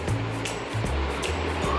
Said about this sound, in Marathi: शिजवल्यानंतर सुरणातलं पाणी आपण निथळून घेऊया